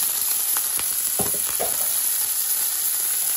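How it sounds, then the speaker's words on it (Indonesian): Steady hissing sizzle of food stir-frying in a hot wok, with a few scraping clicks of a utensil stirring and tossing it. "Ini tak ongseng aja jadi satu"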